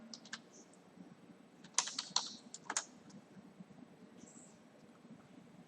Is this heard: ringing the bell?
no